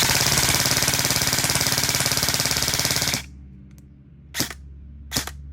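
An E&C 341 airsoft AEG rifle rips through a sustained full-auto burst lasting about three seconds, loud and close, then cuts off, followed by a couple of sharp isolated clacks.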